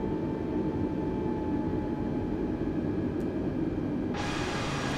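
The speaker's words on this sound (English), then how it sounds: "increase a little bit of throttle, and taxi now to the runway." Airbus A320neo taxiing in Microsoft Flight Simulator, a steady jet engine hum with faint tonal whine held evenly throughout, with a brighter hiss rising near the end.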